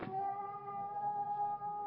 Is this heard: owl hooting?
no